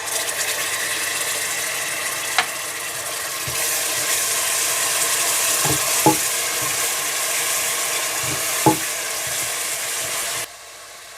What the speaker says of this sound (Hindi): जब प्याज हल्के से ब्राउन होने लगे तो इसमें पिसा हुआ अदरक लहसुन डालकर भून लें